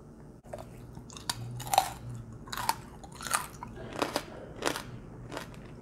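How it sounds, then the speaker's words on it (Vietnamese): Someone eats a banh mi of crispy fried pork belly, with close crunchy bites and chewing in an uneven rhythm of about seven crisp bursts, no speech over it. "Ăn thêm một miếng nữa nè."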